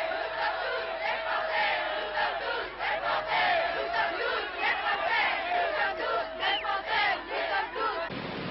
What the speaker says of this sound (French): des slogans différents fusèrent de la foule